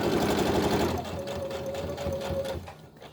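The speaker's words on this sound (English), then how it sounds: "And go ahead and run a stitch down through here." A sewing machine runs a stitch line through a fabric face mask, a steady close mechanical whir of rapid needle strokes that continues for about a second before slowing and fading.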